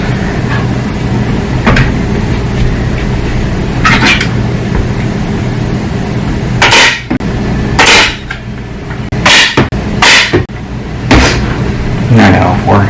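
Fabric being tacked down onto a wooden pressing board, the way canvas is stretched: sharp hammer-like taps and clacks come in irregular bursts, several loud and close, over a steady background hum.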